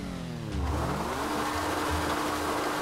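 Motorcycle engine in GTA 5 revving hard while the rear tyre burns out, a loud, close, continuous roar with pitch sweeping up and settling into a steady high drone.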